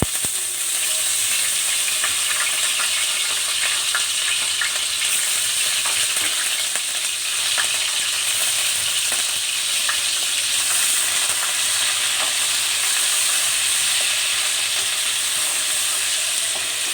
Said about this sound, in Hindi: लहसुन अदरक को हम अच्छे तरीके से सौते कर लेंगे, यानी गोल्डन गोल्डन जो है ब्राउन कर लेंगे